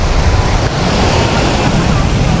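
Strong surf and gusting wind on a Boracay beach with shallow water, a loud continuous roar of breaking waves and wind buffeting the microphone close up.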